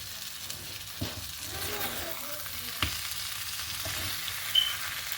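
Pepper chicken sizzles quietly in a pan with curry leaves tossed in, a soft steady frying hiss broken by a few faint knocks and stirs, without speech.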